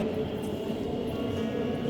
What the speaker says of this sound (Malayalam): ട്രാം സ്റ്റേഷനും ട്രാം പോകുന്ന വഴിയാണ്